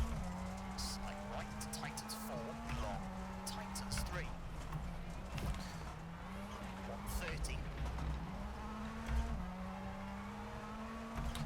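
A rally car engine in the EA WRC video game holds a steady, buzzing drone with small pitch steps as gears change, mixed with gravel and tire noise throughout.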